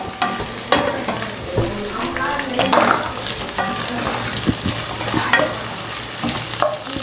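Onions fry in a pan for a soup, with a close, crackling sizzle. A spoon clatters and scrapes repeatedly as they are stirred.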